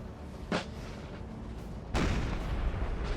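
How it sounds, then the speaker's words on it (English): Artillery fire in Napoleon: Total War, with Russian guns pounding troops: two distant heavy booms, a short one early and a larger one later, over a constant rumbling battlefield din. "Blown apart by Russian artillery."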